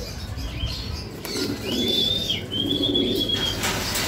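Racing pigeons flap their wings in a loft after a derby race, a soft rustling flutter with coos and a thin chirp, close by over steady background noise.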